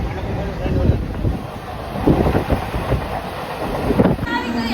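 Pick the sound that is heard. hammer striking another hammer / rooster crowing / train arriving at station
train arriving at station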